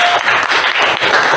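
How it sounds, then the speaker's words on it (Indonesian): Classroom audience clapping for a group of presenters, a short dense burst of applause from a small nearby crowd, with no talk over it. "kalau cukup kita kasih aplaus untuk teman-teman"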